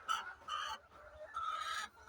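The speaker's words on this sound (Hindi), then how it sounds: "ये हमारे पास मुर्गियाँ लोमन सिल्वर गोल्डन की" Lohmann silver and golden laying hens cluck in a poultry shed, a few close, repeated bursts of clucking and squawking with short pauses between them.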